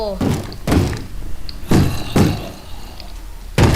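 A wooden door in the Minecraft video game thuds open and shut about five times in an irregular sequence, each a short, close, hollow knock-like thunk.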